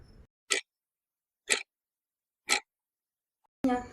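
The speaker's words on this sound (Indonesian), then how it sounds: "pernah mendengar detak jam?" Three short, crisp clock ticks spaced evenly about a second apart in otherwise dead silence, followed by the start of a voice speaking.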